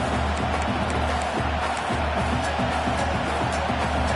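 Steady roar of a stadium crowd at a college football game as the field goal unit comes out, a dense, loud wash of voices with no letup.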